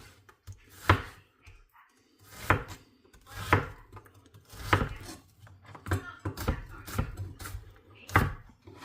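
A knife slicing through vegetables for turkey soup on a cutting board, with about ten crisp, irregularly spaced chops heard close up and alone.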